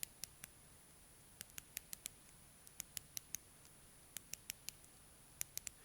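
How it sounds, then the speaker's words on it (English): Bezel of a Mido Ocean Star 200C diver's watch being turned, giving a run of crisp, quiet ratcheting clicks in irregular bursts, close up with a faint steady hum behind. "I think you should be able to hear the clicking of this bezel"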